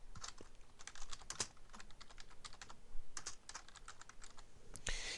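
Someone types quickly on a computer keyboard, a dense stream of close, crisp key clicks in irregular bursts, with no talking.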